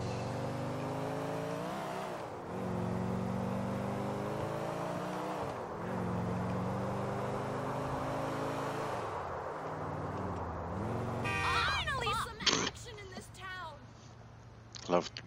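Car engine in GTA IV held at full throttle, a steady loud drone with gear-shift dips, ending in screeching tires and skids, while a voice talks over it.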